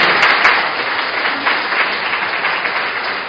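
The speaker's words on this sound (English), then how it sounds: "Please give your applause for scheduled officers." Audience applause after a presentation, a loud dense burst of many hands clapping that holds steady and slowly eases, with no talking over it.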